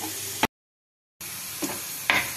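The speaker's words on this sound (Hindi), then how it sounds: "अब हमने बिल्कुल कम आंच पे इसे ऐसे तो हिलाते हुए अच्छी तरह पकाना है बेसन को" Besan (gram flour) roasting in melted ghee on a very low flame, stirred with soft scraping and a gentle sizzle, briefly broken by a pause of near silence before the stirring resumes.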